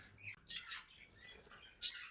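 Brief high-pitched chirps from pet parrots, a couple of sharp bursts separated by quiet, fairly faint against a low background.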